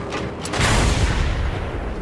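A single heavy gunshot in the video game Mad Max on PC booms out, followed by a loud, lingering rumble of background engine noise.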